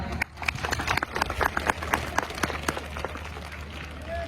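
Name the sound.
audience clapping to congratulate school staff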